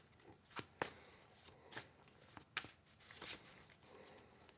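Tarot cards being shuffled up close, quiet rustling punctuated by several sharp riffling snaps at irregular intervals.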